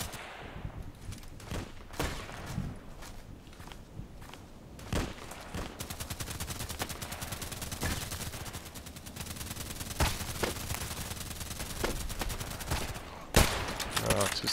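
HK417 rifle shots in a sniper-game match, a run of sharp gunfire reports spread through a busy, dense stretch with rapid bursts near the end, while other gunfire and game noise carry on around them.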